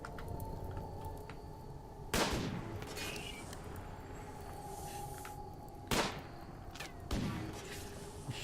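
Gunshots in the video game Rimworld: three sharp, loud reports spaced a few seconds apart over a steady background drone, with no talk.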